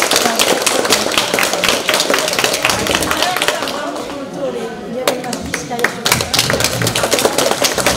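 Applause at the opening of a new seniors' club venue in a village cultural centre, a loud, close burst of clapping by a small crowd that dips briefly in the middle and picks up again, with voices mixed in.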